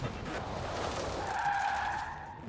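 A VW Dune Buggy in the racing game Forza Horizon 4 slides out of control, its tires squealing in a sustained, rising skid over the steady rush of engine and road noise.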